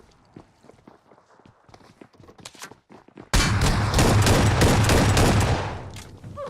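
Gunfire in an online shooter starts with scattered footsteps and light shots, then erupts into a loud, dense, continuous barrage of rapid automatic fire that roars for a couple of seconds before easing off.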